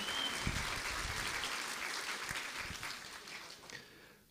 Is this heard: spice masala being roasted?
no